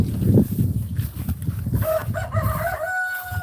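Chickens cluck on a farm in Aklan while a rooster lets out a drawn-out crow partway through, fairly close, with a scattering of other bird and farmyard noise and no talk.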